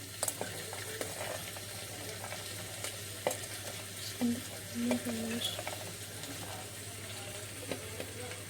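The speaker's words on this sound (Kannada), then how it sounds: "ಈಗೆಲ್ಲ ಹಸಿ ಶೇಂಗಾ ಈಗ ಹಾಕಾಕತ್ತೀನಿ ನೋಡ್ರಿ." Raw peanuts sizzle and fry in hot tempering oil in a pan for vegetable pulao, a steady close crackling hiss under a constant low hum, with a few stirring scrapes.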